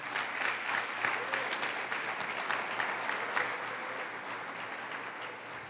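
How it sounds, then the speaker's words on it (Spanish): A church congregation claps loudly and steadily during a worship service, a dense, continuous wash of applause that tapers off slightly toward the end, with no voices standing out. "Dele un fuerte aplauso al Señor"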